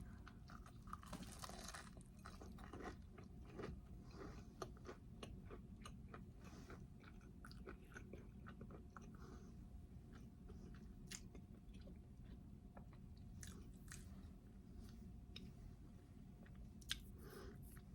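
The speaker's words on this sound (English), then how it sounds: "Listen to the crunch." Crunchy zero-point bagel or banana bread bitten and chewed close up, a steady run of crisp crunches and mastication with no talking.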